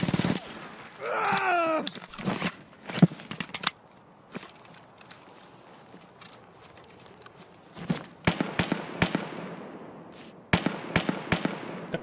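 Grenade explosions in Escape from Tarkov come as a series of sharp distant blasts and pops scattered over a quiet outdoor background, with some footstep-like rustling and a brief whistling squeal early on.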